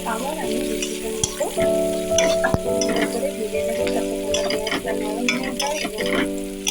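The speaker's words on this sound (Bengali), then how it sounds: "ব্রাউন কালার আমার পেঁয়াজ লঙ্কা ভাজা হয়ে গেছে" Onion and chili sizzle steadily in hot oil while being stirred, with occasional spoon scrapes and light clinks against the pan, close and continuous.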